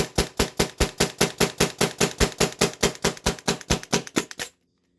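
A Tippmann TPX paintball pistol dry-fired with its air tank turned off and magazine removed, giving a rapid, steady run of about twenty crisp, close mechanical clicks before stopping abruptly into silence.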